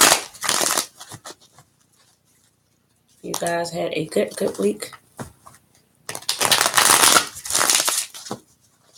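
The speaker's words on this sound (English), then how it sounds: "Let's do a couple final shuffles." Tarot cards shuffled by hand in a short riffling, fluttering burst, heard between stretches of a person talking.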